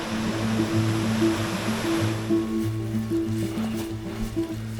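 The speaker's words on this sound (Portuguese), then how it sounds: "fizemos um trilho num vale onde a água desce entre rochas graníticas e forma variadíssimas cascatas" Water cascades over granite rocks in a mountain valley with many small waterfalls, a steady rushing roar throughout with a low droning tone running beneath it.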